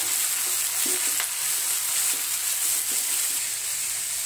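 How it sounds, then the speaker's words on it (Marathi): Cabbage and carrot stir-fried for paneer fried rice, giving a steady close sizzle with light scraping stirs throughout, no voices. "या सर्व भाज्या आपण परतून घेऊया।"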